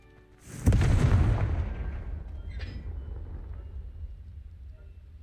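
A Confringo blasting curse goes off in the Hogwarts Legacy game, one loud booming explosion that rumbles and slowly fades away. A faint crackle follows partway through the decay.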